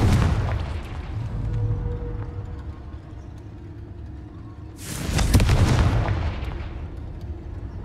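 Confringo explosive spell cast in Hogwarts Legacy, loud booming blasts with a strong burst partway through that rumbles and fades, over continuous noisy game background.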